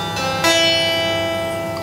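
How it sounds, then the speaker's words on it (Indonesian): A clean acoustic guitar played straight through a piezo pickup with no effects, a bright note ringing out and sustaining steadily after a soft pluck, no voices. "Ini adalah suara gitar clean ya, tanpa efek"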